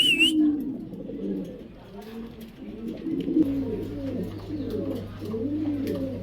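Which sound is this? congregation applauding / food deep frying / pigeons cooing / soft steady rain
pigeons cooing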